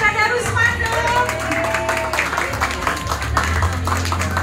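An audience claps for a keyboardist at a Palestine support gathering, a steady wash of applause and crowd noise over a sustained musical tone throughout.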